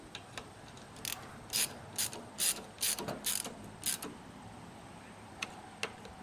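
A ratchet wrench torquing down bolts on a lawn sweeper clicks in several quick bursts of sharp metallic ratcheting, close and distinct, with quieter pauses between strokes.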